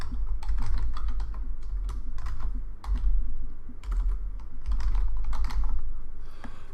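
Rapid keystrokes on a computer keyboard in irregular bursts with short pauses, close and fairly loud, with no speech.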